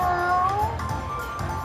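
Cat meows from a Miss Kitty slot machine bonus round ring out near and clear in a short burst of two or three rising and falling calls over the soft hum of the casino floor.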